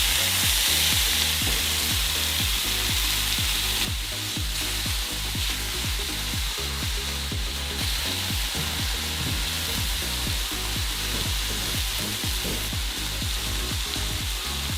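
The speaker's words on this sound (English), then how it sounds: "let me flip the patties over and cook for about another 4 more minutes" Burger patties sizzle loudly and steadily in a hot pan right after being flipped, a dense continuous frying hiss with crackling pops throughout.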